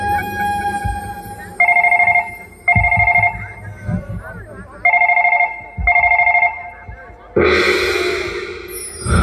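Telephone ringing during a call, with four trilling rings in two pairs separated by short pauses, followed by a burst of rushing noise.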